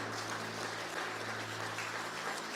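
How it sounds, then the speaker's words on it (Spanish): A church congregation applauds steadily as a dense, even wash of clapping, with a low steady hum underneath, fairly faint throughout. "dele un aplauso al Señor"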